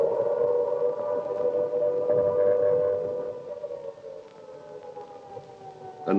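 An air raid siren in wartime London wails on a long sustained pitch, loud and steady at first, then gradually fading and wavering toward the end, with no voices over it.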